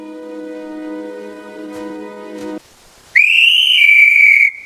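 A whistle blown to call for help somewhere in the woods, one long loud piercing blast that holds for over a second, following a sustained harmonic tone that cuts off just before it.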